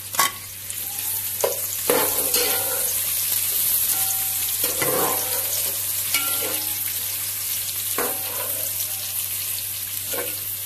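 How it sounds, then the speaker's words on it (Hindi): Onions frying in half a cup of oil until light brown, a steady close sizzle with repeated scraping stirs of a spoon against the pan, no voices. "इसके बाद हम इसके अंदर ऐड करेंगे प्याज ब्राउन करेंगे लाइट ब्राउन"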